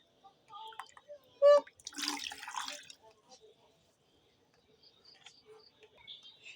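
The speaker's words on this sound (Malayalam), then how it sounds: "ശകലം വെള്ളം ഒഴിക്കാം." A splash of water poured into a pan of simmering vala fish curry makes a brief, close pour of about a second, with a voice talking quietly before it and faint kitchen clinks afterward.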